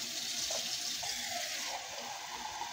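Water pours steadily into a cooking pot of Italian-style green beans while they cook, a continuous close splashing stream with no talk.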